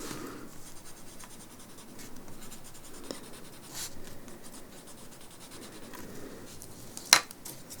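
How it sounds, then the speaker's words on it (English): A graphite pencil lightly shades the base of a gum leaf drawing on paper, producing a continuous, quiet scratchy rasp with small stroke-to-stroke variations and one sharp tick near the end. "Today I'm just going to add a tiny little bit of graphite at the bottom of the midrib"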